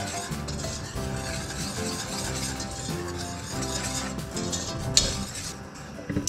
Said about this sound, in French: On met à chauffer et on mélange le tout.